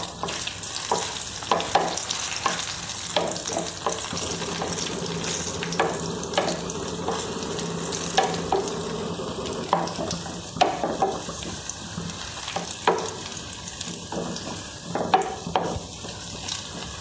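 Cashew nuts fry in a pan while a spoon stirs them, making a close, steady sizzle broken by frequent scraping clicks and taps, with no talking.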